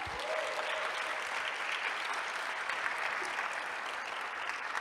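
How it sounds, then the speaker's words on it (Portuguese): A church congregation claps steadily as a dense, even wash of applause that stays level throughout, moderately loud and diffuse, with no clear voices over it. "Dê uma salva de palmas a Jesus."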